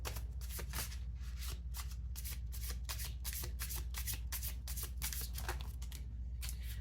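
Tarot cards are shuffled steadily and close by, a rapid rhythmic riffle of crisp flicks and slaps that runs throughout, with no talking.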